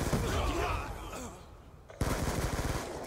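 Rapid bursts of Skorpion submachine gun fire in the shooter game Black Ops 2, loud and close, dropping briefly to a quieter lull before another dense stretch of rattling shots resumes.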